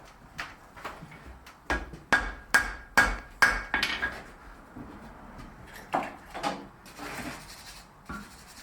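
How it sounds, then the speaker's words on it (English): Hammer blows land on wrought iron dividers during a forge weld, a quick run of sharp ringing strikes near and loud, speeding up then spacing out, followed by a few scrapes and softer taps; no speech. "Now I'm going in for my full weld."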